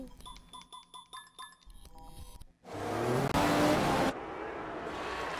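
A Ferrari race car in a racing video game screams past at high revs, its engine note rising into a loud, sustained roar after a stretch of softer mechanical and musical sounds.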